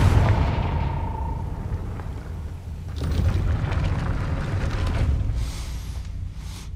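Confringo fire spell blast in the video game Hogwarts Legacy, a heavy booming explosion with rumbling low roar that swells, then rolls on with crackling debris, loud and close.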